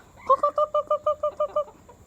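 A chicken close to laying gives a rapid series of about ten evenly spaced, tonal clucks over two seconds, close and fairly loud, fading at the end.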